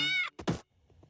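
A cartoon cat in The Simpsons lets out a single short meow, followed by a quick soft thump and faint low noises as it fades.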